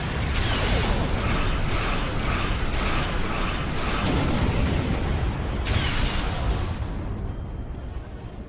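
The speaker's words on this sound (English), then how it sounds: "I'm using plasma weaponry" Plasma weapons firing in Star Trek Online, a dense continuous roar of rhythmic pulsing blasts and booming impacts, loud and sustained, fading slightly near the end.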